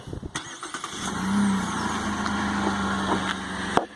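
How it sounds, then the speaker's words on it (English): A 2017 Chevrolet Colorado ZR2 truck starts by remote start: a short crank catches, then the engine settles into a steady idle hum with a sustained mid-pitched drone, heard close and alone before a brief click near the end. "Now, also in this truck, we do have the automatic remote start."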